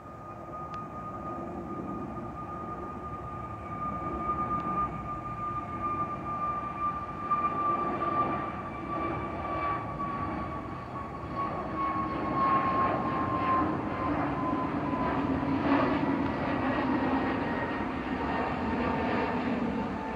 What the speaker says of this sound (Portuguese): Olha lá, Lá vem, vai decolar, olha lá, decolou, decolou a subida.